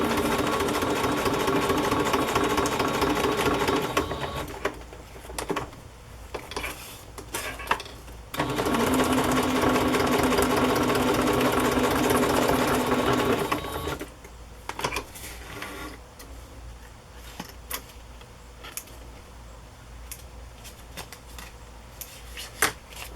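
A sewing machine runs steadily as it stitches around a piece of 1960s-style fabric ephemera, with two long sustained bursts of motor hum separated by a short pause and followed by quieter handling.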